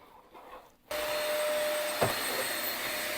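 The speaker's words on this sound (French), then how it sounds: "on va faire l'aspirateur" A vacuum cleaner switches on after a short quiet moment and runs with a loud, steady roar while tidying a bedroom, with a brief knock partway through.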